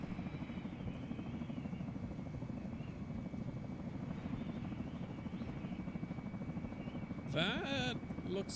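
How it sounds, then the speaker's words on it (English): Helicopter in the ArmA 3 military video game, heard from aboard: a steady, droning rotor and engine rumble runs throughout, with a brief sharper whooshing sweep near the end. "we successfully got into the chopper"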